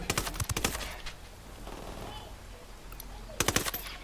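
Rapid bursts of automatic gunfire in the Ghost Recon video game, two quick volleys at the start and another at the end, with a quieter stretch of game ambience between and faint voices low in the mix.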